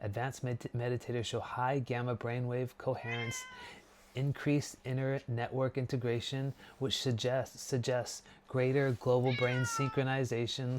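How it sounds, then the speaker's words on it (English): A cat meows a couple of times, its drawn-out calls rising and falling under a man's steady, continuous talking. "that's the cat"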